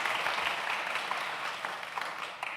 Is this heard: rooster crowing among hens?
no